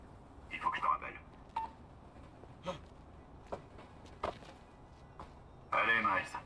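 Phone keypad tones and ringing inside a Spider-Man video game, a run of separate beeping dial tones spaced irregularly, with a longer louder ring burst at the end, heard alongside quiet game talk.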